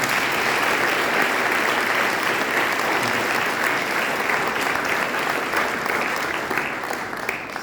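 A gathering at a sports ground announcement gives a round of applause for the technicians. The clapping is dense and continuous, staying loud and even for several seconds before thinning a little at the end.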